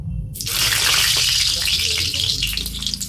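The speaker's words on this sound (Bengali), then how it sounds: "আলুগুলো কিন্তু ভালো করে একটু ভেজে নিচ্ছি" Potatoes fry in hot oil for a fish curry with cauliflower, giving a loud, steady, close sizzle and hiss throughout, with a voice speaking faintly underneath.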